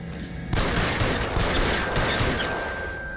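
A dense burst of gunfire erupts in the video game L.A. Noire, a loud, continuous crackling fusillade of rapid shots that fades slightly toward the end.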